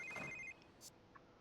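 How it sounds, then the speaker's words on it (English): A phone rings in The Sims 3 game, a quiet, brief electronic ring tone followed by faint soft game sounds. "your phone is always a-ringing"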